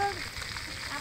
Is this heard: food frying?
yes